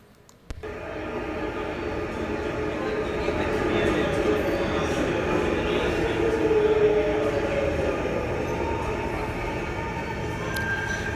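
A digital subway train arriving in an installation with a 20-meter LED wall, beginning with a sudden onset, then a rumbling rush that builds, peaks, and holds steady as if pulling into a station; talk may be mixed underneath.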